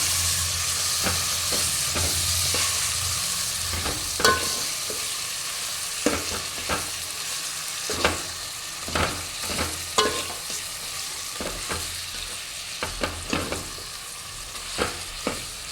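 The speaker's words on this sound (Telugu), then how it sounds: "అర్ధ కిలో చికెన్ తీసుకొని ఇందులో వేసుకొని పసుపు అల్మెల్లిగడ్డ అంటుకునేంత వరకు ఇట్లా కలుపుకోవాలి." Half a kilo of chicken stirred with turmeric in a frying pan for a chicken curry, giving a continuous sizzle with regular knocks and scrapes of a spoon against the pan, close and unbroken by speech.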